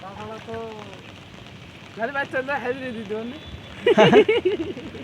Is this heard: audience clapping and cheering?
no